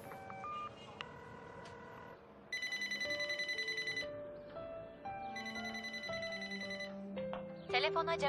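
A telephone rings in a series of bright electronic ringtone bursts with dialing-like tones mixed in, loud and continuous, just before an answering machine picks up.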